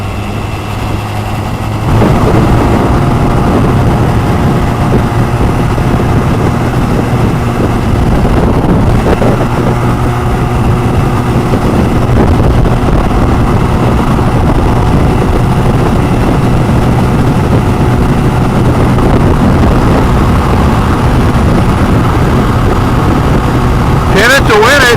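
A Honda Rebel 250 motorcycle engine held at full throttle in top gear, a steady loud drone with wind noise running continuously throughout, a rider talking over it.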